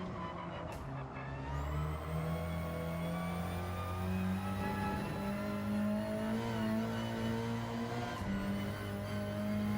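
Sustained race car engine in Gran Turismo 7 revving and accelerating through gear changes, its steady droning pitch rising and dropping over a lap, loud and continuous with no talking.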